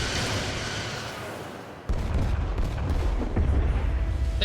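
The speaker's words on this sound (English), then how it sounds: "Firing torpedoes." A starship fires torpedoes in Star Trek: Resurgence, with loud booming blasts and rumbling impacts close by, building after a sharp onset midway.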